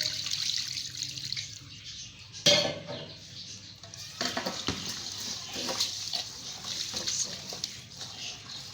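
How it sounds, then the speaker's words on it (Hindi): Water pours into sweet gulgula batter in a kitchen bowl, a continuous splashing and running sound with a sharp knock partway through and faint background noise. "अब इसमें हम और पानी शामिल करेंगे।"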